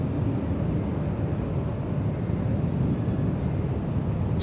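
Distant reverse thrust from a Boeing 777 just landed at LAX, a continuous low, even roar with no breaks and no voices over it.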